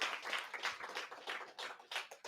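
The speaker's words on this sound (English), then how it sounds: "let's clap for that" A small audience at a Southern soul food cooking demonstration claps, a brief patter of scattered, fairly quiet hand claps.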